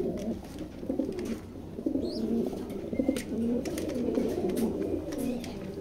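Pigeons coo continuously in a loft, a dense, close, low rolling chorus from several birds with a brief chirp overhead and no speech.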